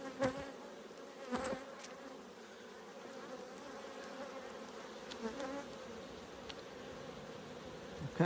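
Honeybees hum around an open hive as a beekeeper inspects frames, a continuous close buzzing drone with occasional louder passes of individual bees near the listener.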